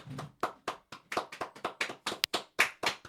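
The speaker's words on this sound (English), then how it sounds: "Round of applause." A few people in a podcast studio clap a short round of applause for a guest, about a dozen crisp, evenly spaced claps, close and clear.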